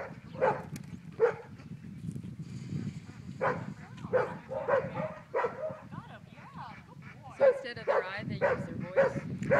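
A Bergamasco herding dog gives a series of short, sharp barks and yips at irregular intervals, fairly close, mixed with people talking nearby during herding work.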